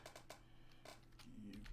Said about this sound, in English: excuse my slow typing